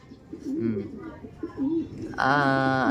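A pet pigeon from a breeder coos in soft repeated throaty phrases close by, mixed with someone talking, then a louder sustained voiced sound at the end.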